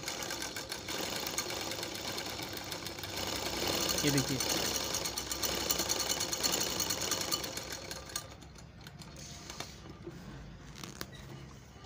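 An industrial sewing machine with a stitch-pulling fault runs in a steady, rapid mechanical whir, louder in the middle and easing off near the end, with someone speaking over it.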